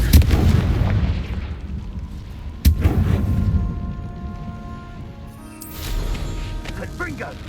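Confringo blasting spell cast in the Hogwarts Legacy video game: a sharp explosive boom bursts out, followed by a decaying rumble and a later crackling blast, with game music and a voice in the background.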